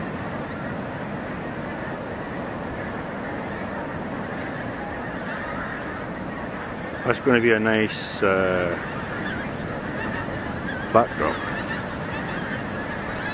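A flock of geese honking as they fly north over the North East Scotland coast, a burst of loud overlapping calls passing close by, then a single later honk over steady wind and ambient noise.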